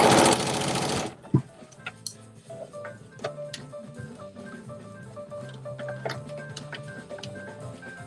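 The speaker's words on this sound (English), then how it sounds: "Do y'all have any questions or anything that I can answer really quickly while I'm just stitching this around?" A sewing machine stitches around a clutch bag made of soft, non-stiff fabric, running in a steady, quiet ticking rhythm after a brief loud noise at the start, close and alone without talk.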